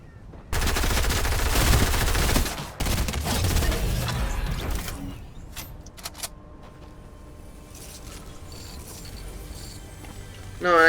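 Rapid Fortnite gunfire rattles in loud bursts for the first few seconds, broken by a short pause, then fades into scattered quieter shots and game clatter while a voice talks over part of it.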